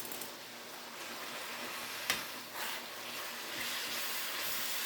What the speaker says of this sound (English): And just keep stir frying till it's all good and brown.